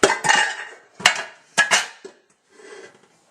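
Pots, pans and metal bakeware clank and scrape in a series of loud, close knocks as they are pulled from a home oven, three sharp bursts followed by a softer rattle.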